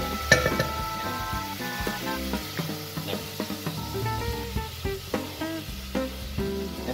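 Cod sizzles and crackles in a frying pan, a faint, steady frying hiss broken by small clinks and stirring taps, with no one speaking.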